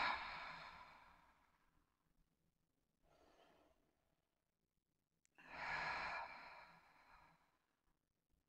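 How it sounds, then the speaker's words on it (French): Slow, audible exhalations during a Pilates breathing exercise: a long breathy exhale fading at the start, a softer short breath around the middle, then a stronger full exhale, close and alone without talk. "Et expire."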